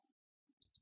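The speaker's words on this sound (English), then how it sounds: "Double click on that." Computer mouse double click, two quick light clicks close together near the end after a brief near-silence, faint and close.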